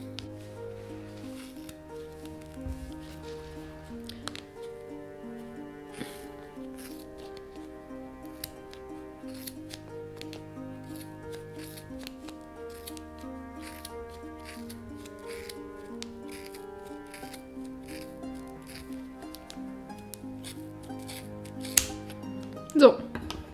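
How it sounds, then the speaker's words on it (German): Scissors snip through wound yarn while making a pompom, producing a steady series of quiet, crisp cuts close by over soft background music, with a sharper snip near the end. "Und jetzt schneide ich genauso auf der anderen Seite auch in der Mitte durch."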